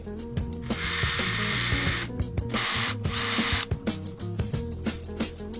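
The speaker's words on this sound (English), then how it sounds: "So I'm gonna be drilling little holes all around" Power drill with a 3/8 bit boring holes in a wide body kit on an Evo 8, loud and close, with several whining bursts of drilling between stretches of motor hum and ratcheting clicks.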